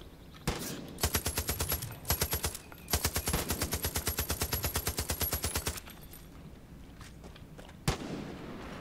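Rapid automatic gunfire in Far Cry 5 as vultures are shot down: several loud bursts of machine-gun fire, the longest running about three seconds, then two isolated single shots with quieter game sound between.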